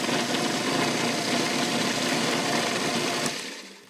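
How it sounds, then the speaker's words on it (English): A blender whirring steadily through walnut pesto with olive oil, a continuous buzzing motor drone at moderate level that cuts off abruptly near the end. "Let's blend it up again."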